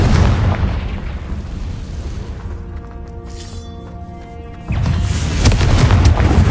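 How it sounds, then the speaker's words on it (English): Booming blasts and bursting impacts from the Confringo explosion spell in the Hogwarts Legacy video game, loud rumbling that fades into a ringing tail before another heavy burst hits. "Confringo!"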